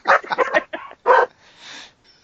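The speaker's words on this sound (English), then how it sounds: "my dogs are crazy tonight too" Several dogs bark in a rapid, loud burst of overlapping yips and barks close by indoors, followed by a brief whine.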